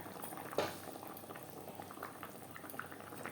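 Egg curry gravy simmers in a pot with soft, low bubbling and occasional gentle plops, one slightly louder burst early on, faint and steady throughout.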